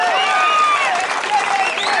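Dense crowd applause and clapping at a Navjot Singh Sidhu political rally speech in Aurangabad, loud and close, sustained throughout with whistling-like tones riding on top.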